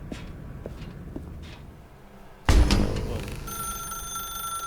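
A telephone rings in the video game The Stanley Parable, a sudden loud burst that settles into a steady electronic ringing tone after faint footsteps.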